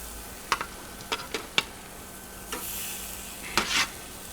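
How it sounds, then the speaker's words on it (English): Faint sizzling of bison sirloin steak searing on hot grill grates, punctuated by a few light clicks and scrapes, with a brief louder hiss near the end. "You can hear that sizzle."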